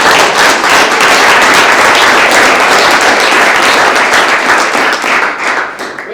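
An arena audience breaks into loud, dense applause, a continuous roar of many hands clapping close by that tapers slightly toward the end.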